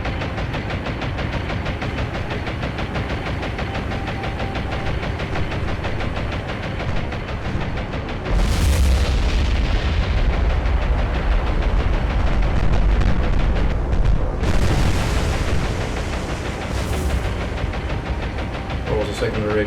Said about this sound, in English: Secondary explosion, not a bomb.